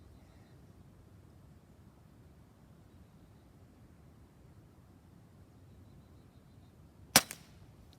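A Benjamin Marauder air rifle with a Walther barrel fires a lighter 8.44 grain pellet at a field target: one sharp, close crack after several seconds of quiet, then a brief faint tail.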